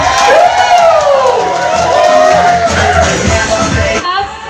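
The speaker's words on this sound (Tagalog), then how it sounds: "palakpakan po na may kasamang hiyawan!" At a wedding reception, a crowd cheers and whoops loudly with yells rising over the noise, close and continuous before it fades slightly at the end.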